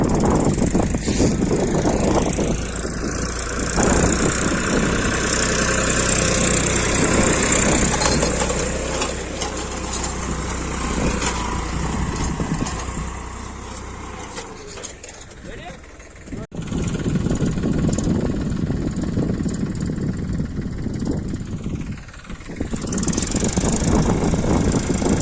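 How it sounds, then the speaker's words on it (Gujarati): A large farm tractor engine runs steadily nearby on a farm at night, with a continuous low rumble that dips briefly midway. People talk over the engine noise. "તો અત્યારે આપણે ટ્રેક્ટર આવી ગયું છે"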